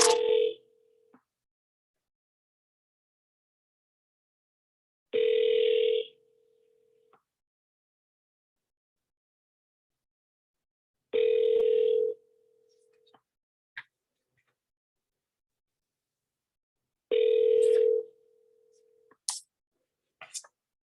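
A phone call ringing out over the line, four long ringback tones spaced about six seconds apart, clear and close with brief clicks between them.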